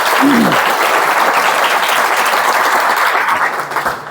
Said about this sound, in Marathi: प्लीज एक वेळेस टाळ्या वाजा परत